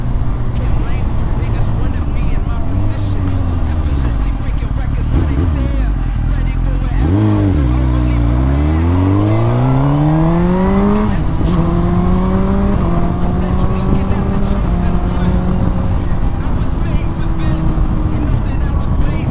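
A Suzuki GSXR1000 sport motorcycle with a fresh tune and quickshifter, ridden hard and loud up close, its engine note climbing through the revs and dropping sharply at each quick gear change, with wind roar throughout.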